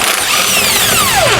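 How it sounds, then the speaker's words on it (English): A power tool turning a 1 1/8 inch socket whines steadily up close, its pitch gliding down as it works U-bolt nuts off a Roadmaster Reflex steering stabilizer mount on a 2020 Thor Outlaw motorhome. "We're going to use a 1 1/8 socket to remove the hardware."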